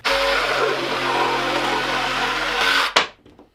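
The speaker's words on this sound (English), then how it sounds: "let's go ahead and cut this fence picket" A Milwaukee M12 cordless jigsaw with a Milwaukee blade saws steadily through a wooden fence picket for about three seconds, a loud buzzing whir that cuts off abruptly at the end.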